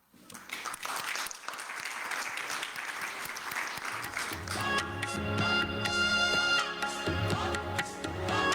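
Audience applause at an International Women's Day celebration, starting sparse and swelling into steady, full clapping that continues to the end, with music rising underneath.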